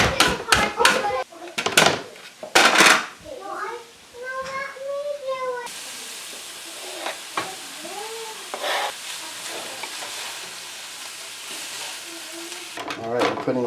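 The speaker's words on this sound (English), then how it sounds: "So now we're just stirring this every once in a while, making the carrots soft" Carrots sauté in a pan with a steady background sizzle and occasional stirring scrapes, while a voice and some brief animal-like cries sound over it.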